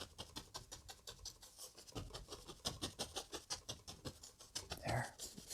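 Soft, rapid dabbing of a brush loading oil paint onto canvas for a wet-on-wet forest landscape, a steady run of light taps close by with no voices.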